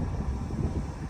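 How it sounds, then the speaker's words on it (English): Wind gusting across an open farm field beside a freshly worked seedbed, a brief low rumbling buffet against the microphone with no voices. "It's quite windy behind me"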